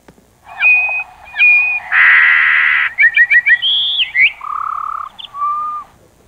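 A slowed-down songbird song at half speed: a clear sequence of whistled notes, a buzzy trill, rapid repeated chirps and sliding tones, loud and close with no talking.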